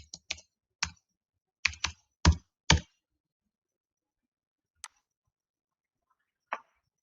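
A computer keyboard clacks while code is typed, short clusters of crisp keystrokes followed by a pause and a couple of isolated taps, close and fairly quiet.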